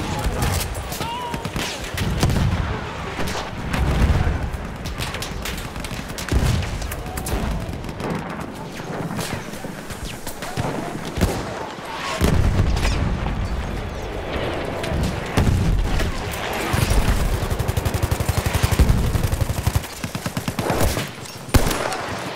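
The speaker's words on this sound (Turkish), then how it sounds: "Bomba atıyorum, çabuk!" Gunfire and explosions in Battlefield 1, a World War I shooter set at Gallipoli: dense, continuous rattling fusillades with heavy booms mixed in, loud and close throughout, with voices calling out over the battle.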